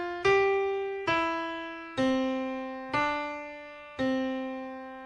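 A piano plays the closing phrase of a beginner exercise: five clear, evenly spaced notes, each struck firmly and left to ring and decay, with no voice over them.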